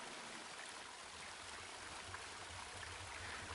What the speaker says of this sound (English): The path ended in a cold-looking river.